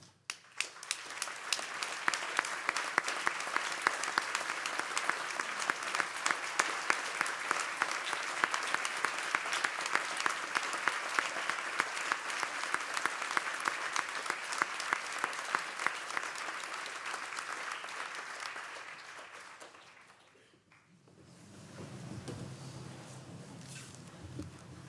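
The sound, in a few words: audience applause for student mentors at graduation ceremony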